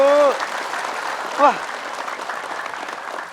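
Studio audience applause during a televised Islamic sermon programme, a steady dense clapping wash that runs throughout, with a short vocal exclamation at the start and another voice cutting in briefly midway.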